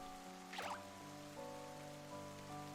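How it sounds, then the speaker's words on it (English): Steady rainfall in a peaceful fantasy video game about a glass princess, a soft continuous patter of drops with a faint tonal game soundtrack layered underneath. "It was sunny until a while ago, but then it started raining."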